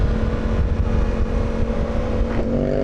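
A motorbike engine revving hard in first gear on the throttle, a loud continuous close-up roar with a steady droning tone throughout.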